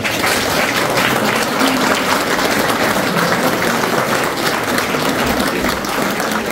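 Steady, dense applause from a crowd at a mayor's New Year address for gendarmes and police, continuous and loud throughout.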